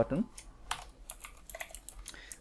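Computer keyboard keys clatter in quick, irregular bursts while HTML code for a login form's submit button is typed for an Express.js project, close and crisp with a faint voice in the background.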